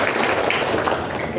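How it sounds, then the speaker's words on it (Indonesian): Audience applause at an education seminar on the Merdeka curriculum for private Islamic colleges, a dense steady wash of clapping throughout a brief moment with faint voices mixed in. "PTKIS tepuk tangan"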